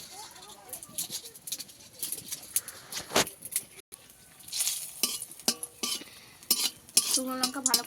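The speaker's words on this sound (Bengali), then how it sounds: "শুকনো লঙ্কা ভালো করে ভেজে তুলে নেব।" Dry red chillies fry in oil in a wok, giving a soft sizzle under repeated clinks and scrapes of a spatula against the pan, while a person talks over the cooking.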